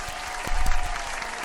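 A podcast studio audience applauds a co-host with a brief, dense burst of clapping, loud and close, swelling slightly in the middle before easing off.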